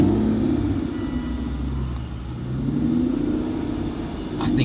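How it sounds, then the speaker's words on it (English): An Aston Martin Rapide S with a V12 engine fires up and settles into a deep, steady rumble close by, with a brief sharper burst near the end. "listen to this engine when I fire it up"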